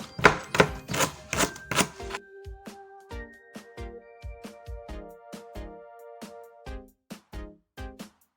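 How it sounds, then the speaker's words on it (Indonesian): Lemongrass and galangal are chopped on a board for a spice paste, with a quick flurry of hard knife strikes followed by a slower, even series of close, crisp chops. "kita halus-haluskan dulu semua bumbu-bumbunya ya. Serainya, lengkuasnya."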